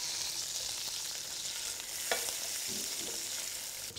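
Vegetables, including celery, frying in oil in a pan while being stirred, a steady close hiss of sizzling broken by a few scraping stirs and a clink, with no talking.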